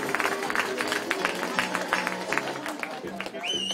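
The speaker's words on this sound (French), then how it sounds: "Mais un applaudissement pour le numéro 10" Crowd applause rises from spectators at a CEGEP football game for player number 10, steady clapping and cheering under an announcer's voice over the public address.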